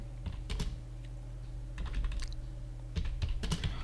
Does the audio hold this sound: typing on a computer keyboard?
yes